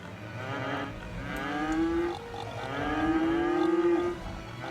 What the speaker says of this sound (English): Got a lot of loud cows there.